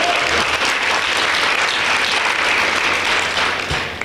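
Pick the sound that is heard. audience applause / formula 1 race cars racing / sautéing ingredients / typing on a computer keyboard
audience applause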